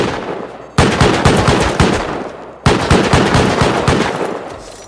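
Automated turrets in the game Rust fire loud rapid bursts of automatic gunfire, two long streams separated by a brief pause.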